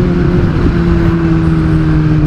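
A Kawasaki ZX10R motorcycle engine runs loud and close, a steady droning hum held throughout with no clear rise or drop in revs.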